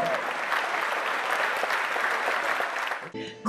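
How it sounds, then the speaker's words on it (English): An audience gives a big, continuous round of applause for Ms Senior America, dense clapping filling the room before a voice comes in at the very end. "How about a big round of applause for Gail King?"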